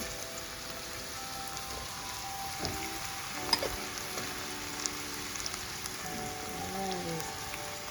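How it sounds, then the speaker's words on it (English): Tomatoes and peppers added to a hot pan for ackee and saltfish sizzle and crackle steadily at close range, a dense frying hiss with occasional sharper pops and faint clinks of a utensil. "You go ahead and add your tomatoes."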